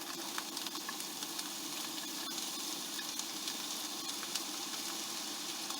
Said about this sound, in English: you're going to go ahead and throw your cabbage